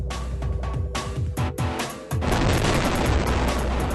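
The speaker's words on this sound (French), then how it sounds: "Une grenade assourdissante aveugle." A police stun grenade goes off with a sharp, loud boom, then a dense broadband ringing roar follows and holds steadily to the end, after several earlier bangs and thuds.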